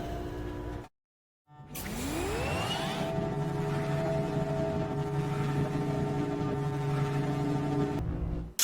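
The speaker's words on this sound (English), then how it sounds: "So we have two noises again. We have the exhaust and the clink." An exhaust-like mechanical noise from the Selenitic Age in the Myst video game starts after a moment of silence. A rising whooshing sweep settles into a steady, droning hum with faint metallic overtones, then cuts off near the end.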